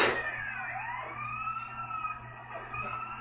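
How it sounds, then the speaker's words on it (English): An ambulance siren in a video game wails loudly and close, sweeping up and down over a low engine hum for the whole stretch. "There's me laughing maniacally as I drive an ambulance off a bridge"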